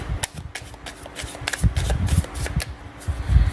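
Island Time Wellness Love Oracle cards are shuffled by hand in a rapid run of crisp riffling and slapping, close and alone.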